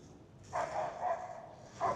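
Dogs bark outdoors near skateboarders on a Los Angeles street during a Día de los Muertos walk, three or four moderately distant barks in a loose sequence over faint street noise.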